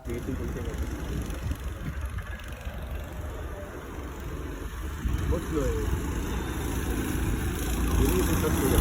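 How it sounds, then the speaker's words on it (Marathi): Go-kart engines racing around a track, a continuous buzzing engine drone that holds steady and swells louder near the end as karts pass close by. "आता तुम्ही गो कार्टिंगची रेसिंग बघा."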